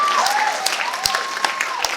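A political audience claps briefly in scattered, sharp bursts beneath a continuing speaker's voice, the applause moderately loud and uneven over two seconds.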